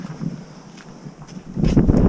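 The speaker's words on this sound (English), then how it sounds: "So bloody windy." Strong wind hits the microphone outdoors beside a 2019 dirt bike being washed, uneven low buffeting that swells into a heavy gust toward the end.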